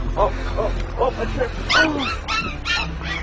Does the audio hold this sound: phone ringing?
no